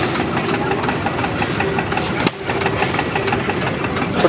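A homemade miniature Rumely Oil Pull tractor engine running steadily at an even idle-like pace, a continuous chugging drone with one brief dip midway, heard alone without voices.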